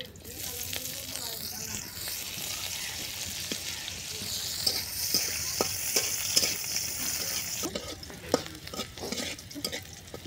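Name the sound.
onions frying and being stirred in pan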